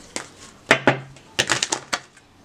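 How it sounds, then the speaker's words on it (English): Tarot cards being shuffled by hand, a run of sharp, close papery clacks and riffles in uneven bursts, with a couple of louder snaps amid near silence. "One more shuffle."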